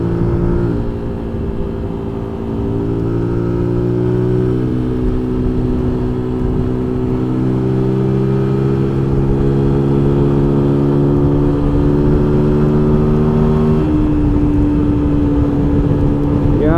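A Zontes U1-125 Trail motorcycle engine runs steadily and loudly throughout, its pitch slowly rising and easing like revving while riding, with no talk.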